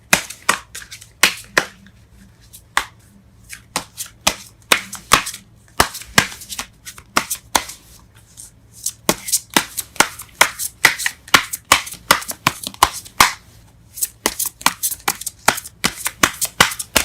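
Tarot cards are shuffled and pulled in a quiet room, giving sharp, irregular papery snaps and flicks in bursts, some rapid and some spaced apart, loud and close with no talking.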